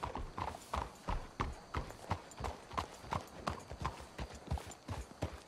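Horse hooves clip-clop steadily in Red Dead Redemption 2, a brisk, even rhythm of thuds at moderate distance that sounds fairly soft, with no talking over it.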